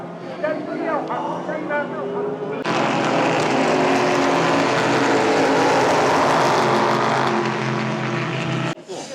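Super GT race car engines at Fuji Speedway roar continuously and very loudly nearby, a dense exhaust blare that swells after a few seconds, with a person talking underneath at first.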